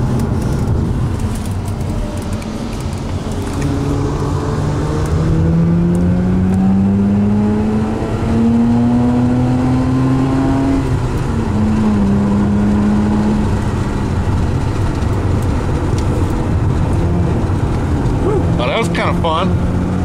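A car drives fast at highway speed, around 72 mph, its engine and road noise droning loudly throughout with rising and falling engine tones, while people chat inside the cabin.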